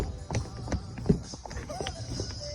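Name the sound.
horses clip-clopping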